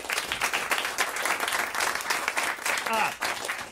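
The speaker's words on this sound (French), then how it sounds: "On vous applaudit." A studio audience at a talk show breaks into sustained, dense applause that holds loud and even throughout, with a voice briefly cutting in near the end.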